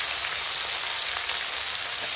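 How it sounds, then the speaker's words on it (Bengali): Chopped onion and green chilli fry with whole tempering spices and salt in hot oil, a loud, continuous close-up sizzle that holds steady throughout without any talking. "এখন দিয়ে দেবো কেটে রাখা পেঁয়াজ আর কাঁচা লঙ্কা দিয়ে একসঙ্গে ফোড়নের সঙ্গে ভেজে নেবো।"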